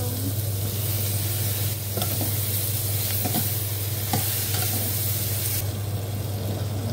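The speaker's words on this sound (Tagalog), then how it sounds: "ganyan ang gusto kong brown ng pork" Pork browning in a pan with garlic, sizzling steadily and close up, with a few light utensil clicks and scrapes from stirring, and no talking.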